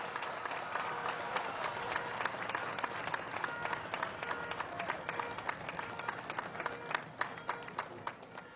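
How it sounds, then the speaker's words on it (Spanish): Crowd at an outdoor official ceremony applauding the armed forces, a dense, sustained clapping with sharp individual claps standing out, moderately distant. "Un aplauso para la Fuerza Armada."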